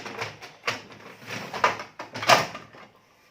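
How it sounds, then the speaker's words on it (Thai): A paper tray being pushed back into a Samsung ProXpress SL-M4070FR laser printer, with several plastic sliding scrapes and knocks ending in a firm clunk, close and fairly loud, then quiet. "แล้วก็ใส่กลับเข้าไปในเครื่องได้เลย"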